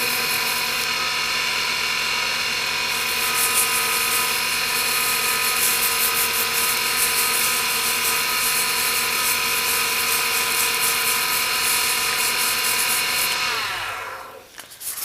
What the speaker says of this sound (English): Sand it.